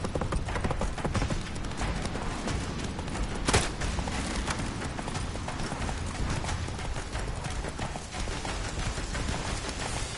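Roach, the horse in the video game Witcher 3, gallops in a fast, dense drumming of hoofbeats that runs the whole time at a steady loud level, with a brief sharper hit partway through.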